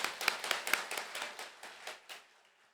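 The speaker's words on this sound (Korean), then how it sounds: "목사님께 감사의 박수 드려드리겠습니다" Church congregation applause, a scattered burst of hand claps with sharp individual slaps early on that thins out and fades to quiet within a few seconds.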